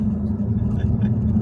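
A Jaguar F-Type running with its exhaust valves open gives a loud, close, continuous deep rumble of engine and exhaust, heavy in the low end and steady throughout the short burst.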